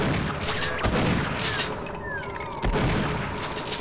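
Shotgun blasts in Half-Life: Blue Shift played in Sven Co-op, two heavy booming shots about two seconds apart over a dense, busy game soundscape with loud ambient noise and faint electronic tones.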